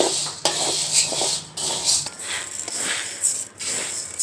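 Chana dal being dry-roasted in a pan, with repeated scraping and clinking of a metal spoon against the pan in an uneven stirring rhythm, close and moderately loud, no talk.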